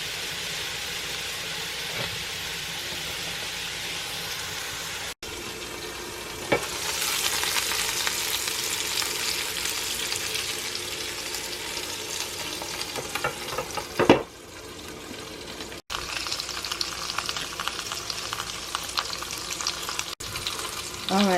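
St. Louis style BBQ ribs sizzle and fry steadily on a cooker, a dense continuous crackle with brief pops and a couple of short gaps, no talking.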